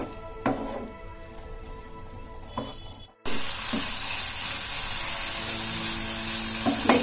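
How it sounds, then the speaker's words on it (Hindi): Potatoes coated in spices and yogurt are stir-fried on a high flame, with clinks and stirring scrapes before a short break, then a louder, continuous sizzle. "अब फ्लेम हम हाई कर देंगे और इसमें आलू ऐड कर देंगे और इसको अच्छे से चला के मिक्स करेंगे।"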